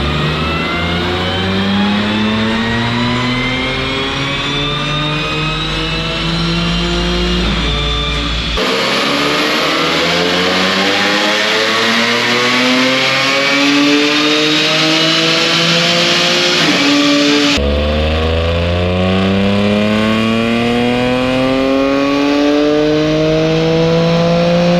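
A supercharged Audi B8 S4 with an Integrated Engineering Stage 2 dual pulley setup, running an E40 ethanol blend, screams through loud continuous rev pulls on a dyno, its pitch climbing in three sweeping runs with brief drops between.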